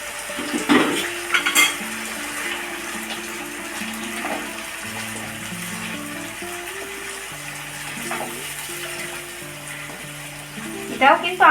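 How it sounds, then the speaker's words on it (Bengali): Onion and cashew paste stirs and fries in a pan, a steady soft sizzle with scraping strokes of a spoon, low background music running throughout. "এটাও কিন্তু আমাদের ভালো করে নাড়াচাড়া করে নিতে হবে, কাজুর কাঁচা গন্ধটা যতক্ষণ না যাবে।"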